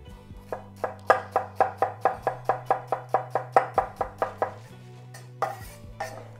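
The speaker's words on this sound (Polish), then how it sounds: "Teraz pokroję dwie małe czerwone cebule." Small red onions are diced with a knife on a board: about fifteen steady, evenly spaced chops ring out close and clear, then a pause and two final knocks, with no talking.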